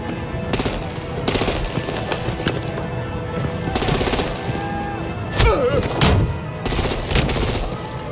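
Artillery and heavy gunfire pound away in Batman: The Enemy Within, with repeated loud bursts of automatic fire and booming shots that come in clusters over a constant rumble, and brief voice fragments between them.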